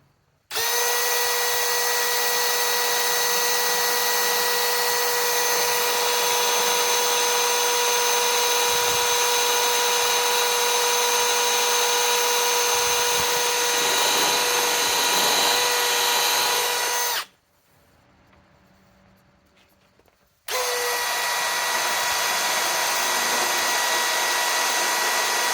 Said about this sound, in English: and I'm going to drill a few holes.